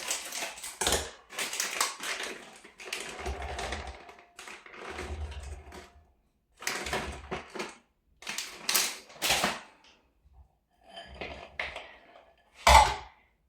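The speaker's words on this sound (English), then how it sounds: "I used scissors to cut them in half" Scissors snipping sticky glacé cherries in half for a homemade Christmas cake, a series of crunchy close cuts in irregular bursts, each clip followed by a short pause, with no talking.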